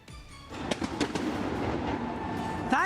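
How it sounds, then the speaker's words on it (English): Firecrackers bursting over Dubai to celebrate India's Asia Cup win: scattered sharp cracks and pops over a dense, steady crowd roar, with a whistling rocket near the end. "firecrackers are going up in the air celebrating India's victory in the Asia Cup"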